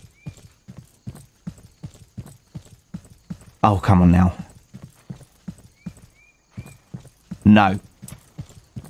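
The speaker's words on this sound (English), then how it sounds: "let's go and grab a horse and go round on horseback" Horse hooves clip-clop steadily while riding in Estate Agent Simulator, a regular rhythmic trot throughout, with someone briefly talking over it twice.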